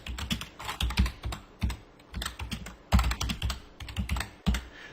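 Steady, fast typing of HTML code on a computer keyboard in NetBeans, close up, with clustered keystrokes in uneven bursts and brief gaps, and no talking.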